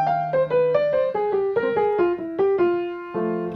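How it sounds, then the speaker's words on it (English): A single melodic instrument plays a quick jazz blues lick built on approach tones resolving to target tones, a rapid run of distinct notes settling on a held final pitch, clear and close with no talk. "that's a really interesting sounding lick because of that formula"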